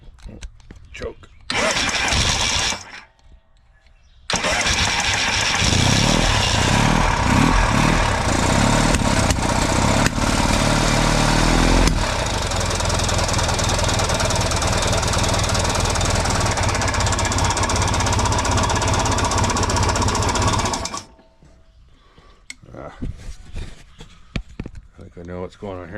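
A motorcycle engine is started with the choke on, catching after a short crank and then running loud and rough for about fifteen seconds before cutting off, with someone talking before and after.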